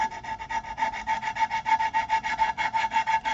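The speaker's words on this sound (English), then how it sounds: "we've got sanding all the way around" Rhythmic rubbing strokes of sandpaper on a wooden yarn bowl, a steady back-and-forth scratching at an even pace, close and fairly loud with no voices.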